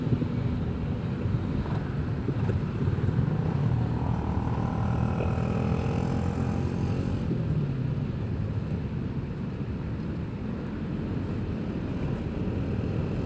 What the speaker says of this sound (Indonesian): suara motor berisik